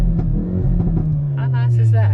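A 2022 Hyundai i30 N or Kona N engine rumbles and revs with a deep, falling drone while a person talks over it.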